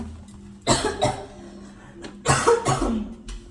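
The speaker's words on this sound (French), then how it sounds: "J'essaye de pas tousser." Two close coughing fits, each a cluster of sharp bursts, separated by a short pause over a faint low hum.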